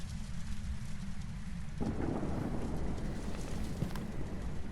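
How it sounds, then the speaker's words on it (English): Heavy rain drums steadily in the Phasmophobia ghost-hunting game, a dense broadband wash with low rumbling thunder beneath that swells louder partway through and stays continuous to the end, with no voices. "what is it, raining? Heavy rain"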